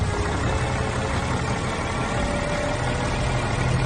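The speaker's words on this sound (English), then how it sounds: "The engine fires up clean and runs as expected." A Peterbilt 379 semi truck's diesel engine idles steadily, a dense, continuous low rumble with even vibration and no pauses, heard close and fairly loud with no talking over it.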